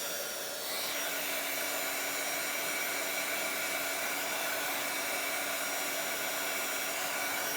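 A heat dryer blows steadily on a saturated Bible journal page, a loud, constant whooshing drone that holds without a break from start to finish, with no voices.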